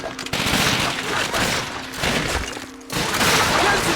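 Rapid machine gun fire crackles through a World War II shooter game, Call of Duty: Finest Hour, in dense loud bursts with a brief lull near the middle before the shooting resumes.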